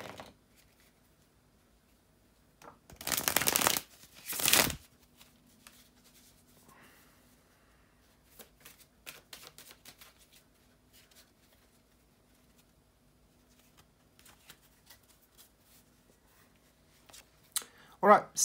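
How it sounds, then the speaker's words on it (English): Two quick bursts of tarot cards being riffled and shuffled close by, followed by long stretches of near silence with small handling taps. "bear with me just a second, guys, to shuffle the tarot cards"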